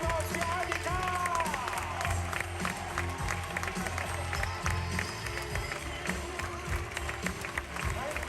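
A crowd applauds for a singer on a cruise ship stage, a sustained wash of clapping and cheering heard from a distance, mixed with music and a background hubbub.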